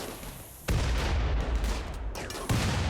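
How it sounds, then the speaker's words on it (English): Explosions and gunfire striking walls in the video game RimWorld: dense, continuous rumbling blasts with two sharp heavy onsets, loud and without talk. "Walls do a good job of soaking up the explosions"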